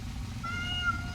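A cat meows in Hollow Knight, with a clear, tonal call rising partway through over a steady low background hum and no talking.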